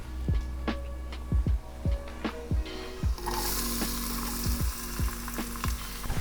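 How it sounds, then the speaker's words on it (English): Shallots and chunks of butternut squash sauté with a steady low sizzle, punctuated by repeated sharp clicks and scrapes of stirring in the pan; the frying grows brighter and louder midway through, with no talking. "Now we're sauteing."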